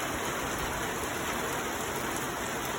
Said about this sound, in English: Got that big old cloud coming over us and just dropping down some good old wet rain.